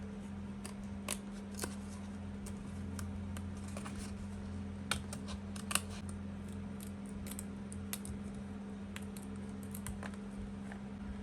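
Scissors snip out a paper hummingbird for a recycled junk journal page, producing quiet, irregular little cutting clicks over a steady low hum, with no voices.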